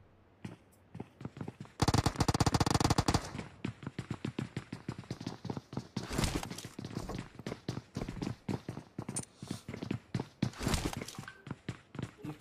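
Battle royale video game gunfire: a dense automatic burst comes first, then scattered single shots and short rapid volleys with footstep sounds between them, moderately loud with no talking.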